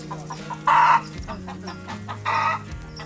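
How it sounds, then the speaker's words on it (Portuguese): Ten guinea fowl, three hens and a rooster on a farm, with two loud close bursts of clucking and crowing calls over a steady background of softer fowl chatter. "Você pode ver que tem 10 galinhas de Angola, 3 galinhas e um galo aqui se divertindo"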